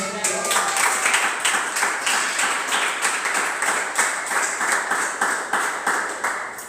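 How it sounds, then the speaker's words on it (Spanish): A church congregation claps in steady, rhythmic unison during a worship service, with a brisk, even beat of many hands at close range that carries on without pause. "Esos aplausos, si fueron para mí está bien, pero que sea mayor para Cristo."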